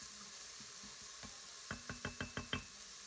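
Onions and garlic sauté in avocado oil inside an Instant Pot with a quiet, faint sizzle, followed by a quick run of six evenly spaced knocks as a utensil taps against the pot.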